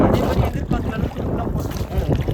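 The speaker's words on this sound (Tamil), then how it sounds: "காற்று இப்படி அடிக்குது, காற்று இப்படி அடிக்குது." A strong headwind buffets a boat at Muttukadu boat house, roaring in gusty microphone rumble with churning water noise underneath, loud and unbroken.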